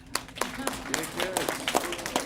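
Children clapping at an early childhood care plan announcement with the Colorado governor, scattered uneven claps of mixed sharpness, some near and some farther off, with voices murmuring underneath.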